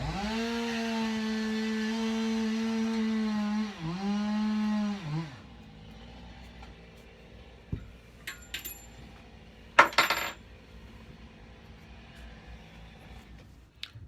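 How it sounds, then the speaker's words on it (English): A power drill whirs steadily for about five seconds while drilling a hole through a shed roof, its pitch dipping briefly as it bites, then stops; scattered clanks and knocks follow. "So that's the first job, is to drill a hole through the roof."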